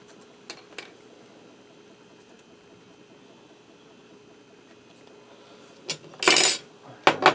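Pork chop marinade with garlic powder and ground ginger being stirred in a bowl: a few faint clinks early, then a short burst of utensil scraping and clatter near the end over a quiet room.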